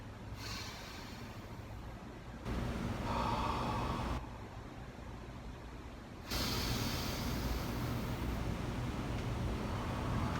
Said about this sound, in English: end with a couple good deep breaths